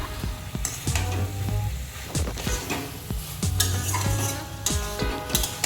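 Eggplant and dried loitta fish curry stirred in a pan, a utensil scraping and clinking in irregular strokes over a soft sizzle, close and moderately loud with no voices.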